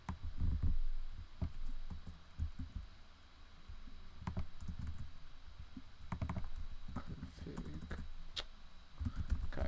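Rapid clicks from a computer keyboard, heard close and fairly quiet as a programmer types, in uneven bursts with brief pauses, over a low room hum.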